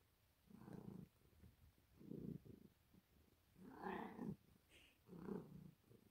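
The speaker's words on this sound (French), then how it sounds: "monsieur ronronne" A domestic cat purrs close and soft among fabrics, its rumbling breaths rising and falling in four or five slow, rhythmic pulses with quiet gaps between them.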